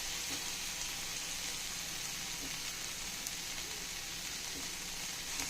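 Continuous soft sizzling of onions sautéing in a hot pan over low gas for onion chutney, even and unbroken throughout.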